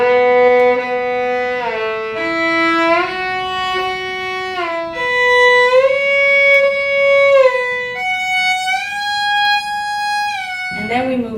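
Violin shifting exercise with the first finger moving between first and second position and back, repeated; bowed sustained notes joined by smooth slides, played close and steady without speech.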